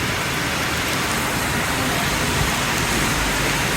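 Rain during a long motorcycle ride, a dense, loud, continuous hiss of falling water and wind that blankets everything without a break or any talking.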